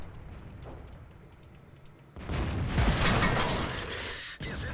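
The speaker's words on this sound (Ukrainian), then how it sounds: "По мені почали стріляти. Це артилерія була." Artillery shell striking a tank in World of Tanks, a sudden loud blast and rumbling impact midway that holds for about two seconds over quieter engine noise, followed by a brief lull and a renewed roar.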